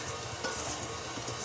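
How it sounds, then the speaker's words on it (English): Flour mixture being folded and stirred into cake batter for a Tarte Tatin cake, a soft continuous scraping and stirring texture with faint sizzling hiss from a nearby pan, no talking. "Just fold in the flour mixture, which is not quite exactly folding"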